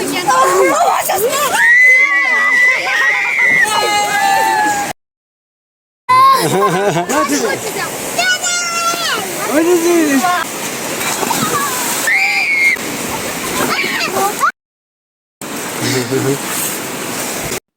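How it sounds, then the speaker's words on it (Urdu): People swim and dive in very cold water at Gobor, Chitral. Splashing and rushing water sits under loud shouting and crowd chatter, and the sound breaks off into brief silent gaps twice. "انتہائی سرد موسم میں بھی یہ ٹھنڈے پانی میں غوطہ خوری کرتے ہیں، تیرتے ہیں۔"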